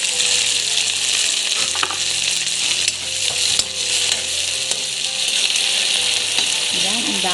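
Sea urchin fries loudly in a pan with cooked onion and garlic, a dense, steady bright sizzle with small stirring knocks, no voices.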